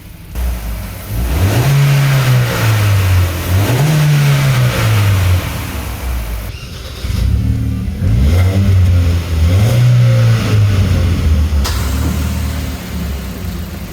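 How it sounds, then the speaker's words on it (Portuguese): A Hyundai Creta bought at auction, suspected of misfiring coils and spark plugs, revved loudly several times from idle, each rev swelling and falling back in a smooth rising-and-falling engine pitch, with no talk. "Vamos subir um pouco o giro e ver se ele tá respondendo bem."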